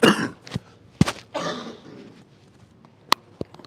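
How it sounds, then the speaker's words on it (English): A man coughs and clears his throat in a few harsh, close bursts, with short quiet gaps and a couple of smaller sounds toward the end. "It's getting looser now, this cough"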